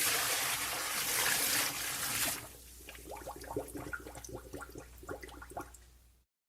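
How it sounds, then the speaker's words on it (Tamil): Water poured into rice for chicken biryani, two measures of water per measure of rice, starting as a loud steady gush, then a softer run of small splashes and trickles into the pot, with no talk. "ஒரு டப்பா ரைஸுக்கு 2 டப்பா தண்ணிய அப்படியே ஆட் பண்ணணும்."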